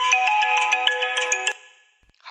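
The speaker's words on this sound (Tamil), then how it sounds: "என் ஃப்ரெண்டு ஃபோன் பண்றான்." An incoming call sets off a mobile phone ringtone, a bright repeating electronic melody that plays loudly for about a second and a half, then breaks off.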